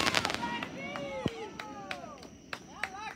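Cannonball fireworks at a backyard show launch with sharp pops and crackles, followed by whistling rising tones and scattered bangs, moderately near, with people's voices and laughter mixed in.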